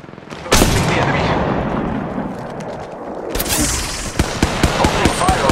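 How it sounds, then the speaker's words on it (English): Gunfire from a third-person battle royale match in Apex Legends Mobile: dense, sustained automatic shooting with sharp individual shots, loud and close, rising again after a brief lull. "Opening fire on the enemy."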